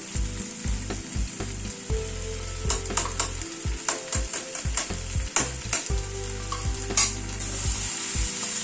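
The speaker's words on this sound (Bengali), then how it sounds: "আদাটাকে দিয়ে একটু নাড়াচাড়া করে নিচ্ছি" Freshly grated ginger frying in a pan, a constant sizzle broken by repeated sharp clicks and scrapes of a utensil stirring against the pan, with low pulsing hum beneath, close and without speech.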